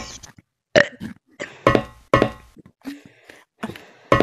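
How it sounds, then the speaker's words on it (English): A run of loud, close burps after drinking root beer, several short guttural bursts in quick succession separated by brief silences. "I could burp on command."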